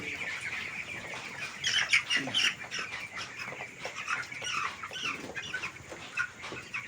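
Several 17-day-old chickens cluck and squawk continuously nearby, a busy overlapping chatter of fowl at moderate volume.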